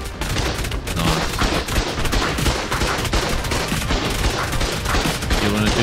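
Rocket launcher and heavy weapon fire during a PvP cave raid in the Ark survival game: continuous, loud, crackling barrages of blasts and shots with no pause across the whole stretch.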